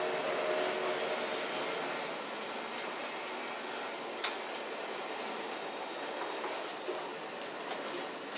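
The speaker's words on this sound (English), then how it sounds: "You can't slow that train down." A train rumbles steadily past in Forza Horizon 4, with continuous rolling rail noise and occasional faint clicks, fairly loud and with no talking over it.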